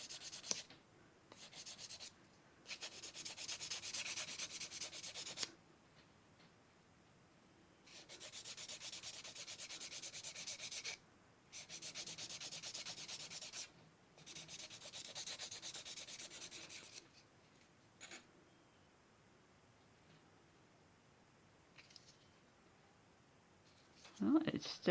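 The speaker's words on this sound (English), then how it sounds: "Might have to do a little bit of sanding." Hand sanding of marbled polymer clay in several bursts of rapid scratchy rubbing, separated by pauses, faint and close, with brief quiet gaps between strokes.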